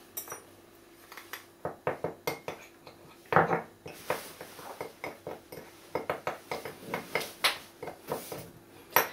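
Cocoa powder and icing sugar are stirred together in a bowl for chocolate truffle coating, giving steady light clinks and scrapes of utensil against dish, close and fairly quiet, with no voices.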